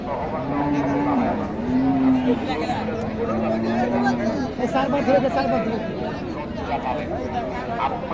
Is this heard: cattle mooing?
yes